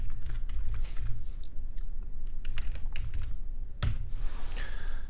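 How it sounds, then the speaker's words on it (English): A password is typed on a computer keyboard with quick, close, irregular key clicks over a few seconds and one sharper, louder tap near the end. "I'm going to type in my password."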